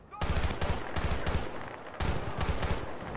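Gunfire in the video game Battlefield Bad Company 2: loud, punchy automatic bursts with heavy low-end thump, firing in rapid repeated volleys that barely pause across the whole stretch.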